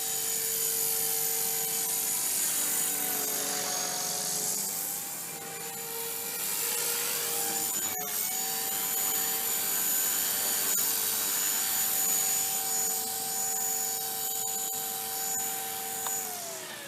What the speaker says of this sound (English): I would never have attempted this with any other helicopter in this wind.